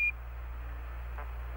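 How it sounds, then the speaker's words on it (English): Master alarm tone during an Apollo lunar module descent, the 1201 program alarm: a brief bright steady beep at the very start and again at the end, framed by the hiss of a radio link with faint voice traffic between. "Roger, 1201 alarm."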